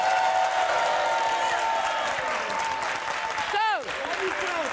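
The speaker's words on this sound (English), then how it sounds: "why is she clapping?" Studio audience applause at a daytime talk show taping, a steady dense wash of clapping throughout, briefly cut by a short whooping or squealing sound near the end.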